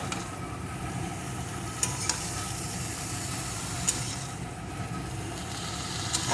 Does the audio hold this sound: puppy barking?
no